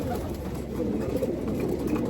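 Racing pigeons, sprinter birds kept in a loft, coo softly in low, murmuring calls that overlap continuously at a moderate distance.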